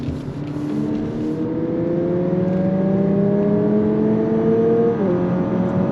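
A 2022 Lexus UX 250h hybrid accelerating from inside the cabin, its engine drone climbing steadily in pitch with an added synthetic sporty engine tone from the speakers, loud and continuous, with a brief dip near the end.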